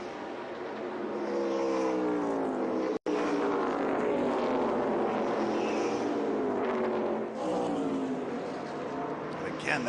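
ARCA Menards stock cars roar through turns 3 and 4 at Rockingham, a steady, loud engine drone with rising and falling pitch sweeps as cars pass, with a commentator speaking over it.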